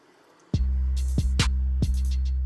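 A dry, undistorted 808 bass from FL Studio, set to cut itself, plays a short pattern of deep booming hits with pitch glides, layered under crisp percussion clicks and hats.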